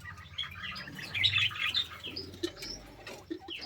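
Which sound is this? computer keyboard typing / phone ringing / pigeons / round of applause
pigeons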